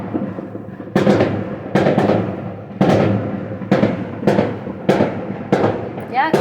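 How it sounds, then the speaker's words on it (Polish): New Year's Eve fireworks burst one after another outdoors, about seven loud sharp bangs spaced roughly a second apart, each trailing off in crackle and echo, with a faint whistle near the end. "Nasze strzelają pewnie tymi fajerwerkami."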